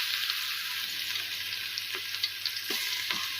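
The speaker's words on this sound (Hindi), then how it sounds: "अब हम इसी ऑयल में लहसुन की पेस्ट ऐड कर देंगे।" Garlic paste hits hot oil left over from browning onions in a pan, giving a steady close sizzle with faint scraping stir sounds and no talking.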